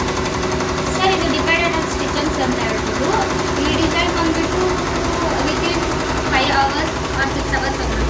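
An embroidery stitching machine runs with a steady, fast mechanical chatter and constant hum at close range, loud and unbroken.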